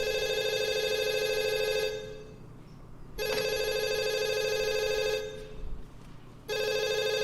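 A telephone rings in repeated long bursts separated by short pauses, loud and close, with no one talking over it.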